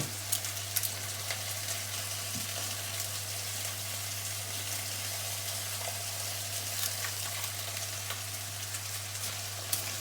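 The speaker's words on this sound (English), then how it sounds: "Just want to give this a wee stir just every now and again." A pot of coq au vin stock with chicken and white wine gravy is stirred on the stove, giving a steady, even simmering sizzle with soft scraping and a low hum throughout, and no voices.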